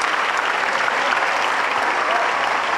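A church congregation at an evangelistic miracle crusade applauds, a dense, even wash of many clapping hands filling the whole short stretch with no pauses.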